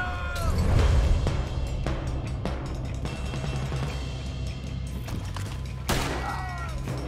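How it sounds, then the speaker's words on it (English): A Red Dead Redemption 2 shootout: repeated gunshots crack out at irregular intervals, with a heavy blast near the start, over a busy, steady combat din. "Looks like we're shooting our way out of here, fellas!"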